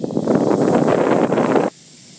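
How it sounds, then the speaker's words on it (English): Over-torqued, internally cracked spark plug under pressure testing, giving a loud dense crackling hiss of random sparking for under two seconds before cutting off, leaving a faint high whine. "Again, spark plug firing randomly."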